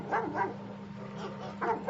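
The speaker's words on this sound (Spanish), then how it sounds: "Podían escuchar a este perro que ladraba asustado, por momentos como enojado" A frightened, agitated dog barks in short pairs, two quick barks at the start and two more near the end, muffled and somewhat distant over a low steady hum.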